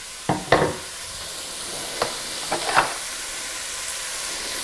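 Carrot ginger soup is stirred in a pot over a continuous steamy hiss, with a handful of short spoon knocks and scrapes against the pot, close by and with no talking.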